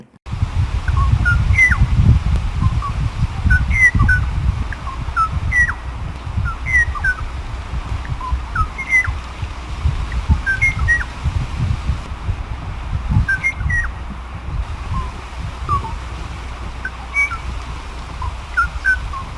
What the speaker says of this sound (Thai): และนี่คือเสียงของนกคาวายตัวนั้น